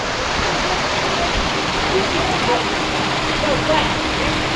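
Broad, steady rushing water from a waterfall climbed on a hike in Rocky Mountain National Park, loud and close, a continuous roar filling the whole stretch.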